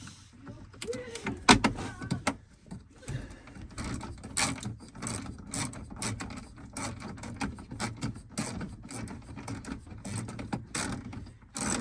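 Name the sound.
tightening bolts with a 7mm socket ratchet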